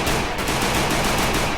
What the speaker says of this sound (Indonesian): Taser Killer menembak dari belakang